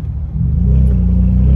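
A BMW M3 in Sport Plus mode accelerates with a deep, steady engine rumble that builds and grows louder, close and without talk.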